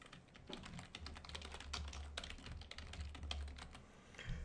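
An email address is typed on a computer keyboard in a quick, steady run of soft, close keystrokes over a faint background hiss.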